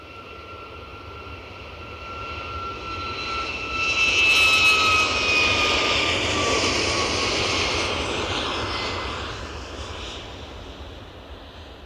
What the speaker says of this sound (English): nicely into final approach as we wave off this Ryanair 737